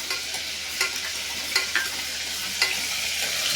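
Onions frying in a pan with whole spices while lamb lung thokku is being made, giving a steady soft sizzle broken by a few sharp scraping stirs of a spoon.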